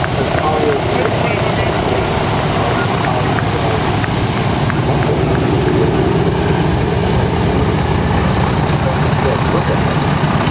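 Aeroplane engines run at the Duxford air show, a loud, steady, dense drone that holds without a break throughout, with faint voices beneath.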